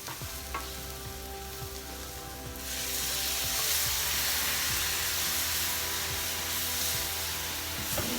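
Cube steaks sizzle and crackle in a pan as they are stirred and browned, the frying growing louder and steadier partway through, with scraping stir sounds throughout.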